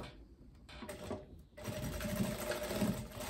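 A sewing machine stitches a shoulder seam on a long dress with short sleeves, running in two bursts: a brief quieter run, a pause, then a louder steady whirring stretch to the end, close and alone.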